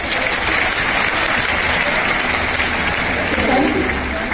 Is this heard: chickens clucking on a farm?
no